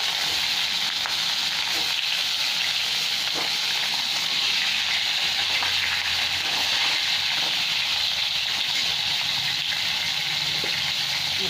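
Peeled pointed gourds (potol) with slit ends fry in very hot salted oil in a wok, making a loud, continuous, close sizzle and hiss with no one speaking.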